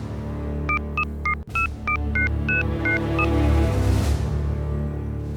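A telephone is dialed, a quick run of distinct keypad tones beeping one after another in steady rhythm, with a short click partway through and low background hum beneath.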